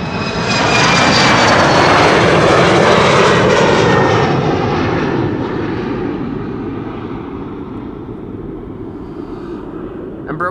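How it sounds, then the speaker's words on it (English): An Embraer 190 jet takes off at Amsterdam Schiphol Airport with a loud, broad engine roar that swells within the first second, holds strong, then slowly fades as the aircraft climbs away into the distance. "Embraer 190 to Göteborg just now took off."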